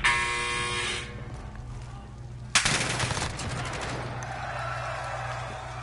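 Loud bursts of rapid automatic gunfire in a video game, a buzzing rattle that stops, then a sharp crack and a second sustained burst.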